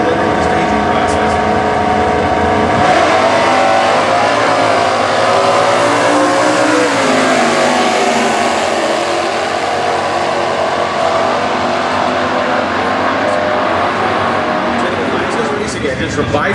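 E-Stock automatic drag race cars with 400 cubic inch engines at the US Nationals, loud sustained engine roar and rising revs, with an announcer talking over it throughout.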